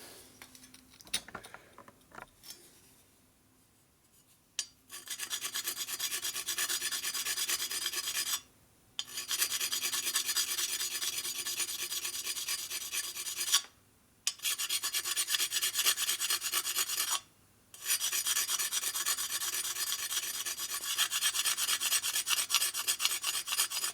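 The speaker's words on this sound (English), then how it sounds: "So I'm going to grind it some more with my stone." Close, rough rasping of a sharpening stone grinding on metal of a Harley Shovelhead big-bore engine, in long continuous bursts separated by brief pauses.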